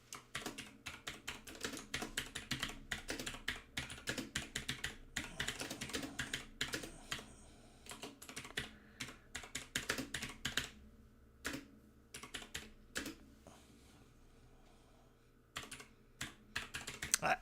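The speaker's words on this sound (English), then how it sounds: "I almost should mute it at this time so you guys don't make fun of the way I type." Fast, irregular clacking of keys typed on a computer keyboard, close and fairly quiet, in bursts with short pauses and a lull near the end, with no voices.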